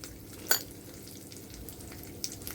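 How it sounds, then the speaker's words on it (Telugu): Lentils, fenugreek, cumin and mustard seeds fry in hot oil for coconut chutney, giving a steady soft sizzle with a light stir or scrape and a few small pops, close and fairly quiet. "ఇది మంచిగా ఫ్రై చేయాలి పప్పు ఫ్రై అవుతుంటే మంచి స్మెల్ వస్తుంది"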